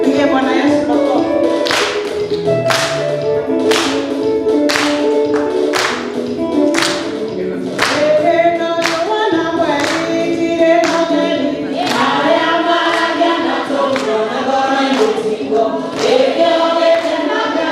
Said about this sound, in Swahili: Pige Bwana Yesu makofi.